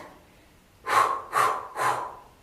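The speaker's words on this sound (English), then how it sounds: "Exhale, 3 quick exhalation. That's a Pilates breath." Three quick, forceful breath exhalations in a Pilates breath during a seated yoga twist, evenly spaced and close, with quiet around them.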